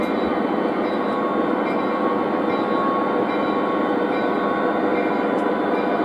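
An O gauge model train runs along its layout track, a constant close whirring rumble with no pauses or talk.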